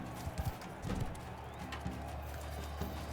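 Horse hooves clip-clop at a gallop in the medieval combat game Mount & Blade II Bannerlord, a few soft, uneven thuds over a steady low rumble of battle ambience.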